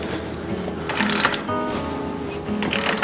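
A small impact wrench works on a part of a vintage Trek 950 ATB mountain bike in a home workshop, firing in short rattling bursts under steady background noise.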